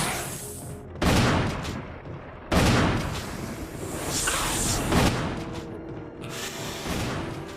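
Loud bursts of gunfire from the Resident Evil game, two heavy blasts that open and ring out, followed by a sustained rumbling barrage with sharp peaks.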